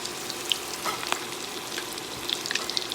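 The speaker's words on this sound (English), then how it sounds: "I'm cooking this in batches because my pan is not big enough to cook the whole shrimp at one time" Coconut shrimp fry in a batch of oil in a pan, giving a steady close sizzle with small pops and crackles and no voices.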